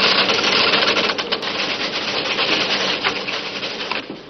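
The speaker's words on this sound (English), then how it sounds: "Machines punch out the news items onto a narrow roll of paper." Newspaper tape-punching machines, built like typewriters, punch news items onto a narrow paper roll, making a dense, continuous clatter of rapid mechanical taps that stays steady and loud throughout with no talk.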